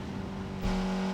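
A motorbike corners in the Need for Speed Mobile video game. A steady, buzzing engine tone holds, then swells louder as the bike powers out of the turn.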